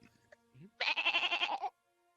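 A person imitates a goat bleat in a single loud, wavering burst of nearly a second, the nasal quaver pulsing rapidly, following a few faint murmured sounds before it.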